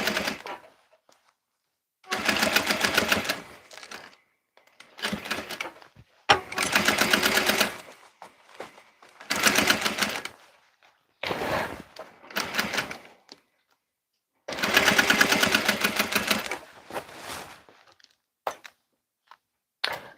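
Home sewing machine stitching a seam at roughly a 3.0 stitch length with a 5/8 inch allowance, heard as a series of close, rapid whirring runs of a few seconds each, separated by silent pauses.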